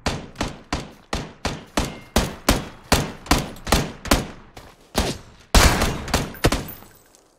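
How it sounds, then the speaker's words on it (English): Rapid regular gunfire from a PUBG match, a steady run of sharp loud shots at close range with short gaps, then a denser louder burst near the end, no voices. "I'm laying down cover fire"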